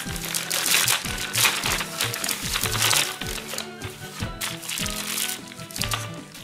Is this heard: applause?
no